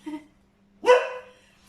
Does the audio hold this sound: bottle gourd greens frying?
no